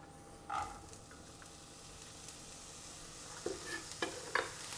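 Onion sautéing in about a tablespoon of olive oil in a frying pan, a faint steady sizzle with a few soft stirring knocks near the end.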